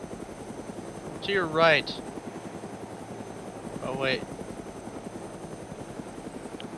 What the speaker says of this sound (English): No, I'm in a medevac chopper.